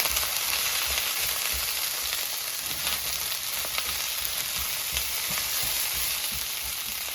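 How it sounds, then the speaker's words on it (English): Steady, loud sizzling of ground turkey frying in hot oil in a pan, a continuous crackling hiss with occasional pops, close up and without any talking. "So now it's fully heated and it's sizzling, so I'm going to mix it."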